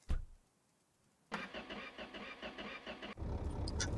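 A Mercedes car in the game My Garage starts up with a brief starter crank, then its engine settles into a steady, pulsing idle before rising into a louder rev as it pulls away.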